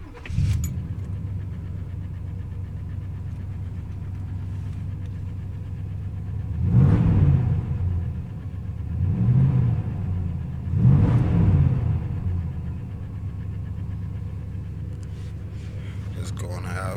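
A 1985 Chevrolet Monte Carlo SS with a 350 V8 and glasspack mufflers rumbles at a deep, steady idle, rising in three short revs midway before settling back; someone talks over it.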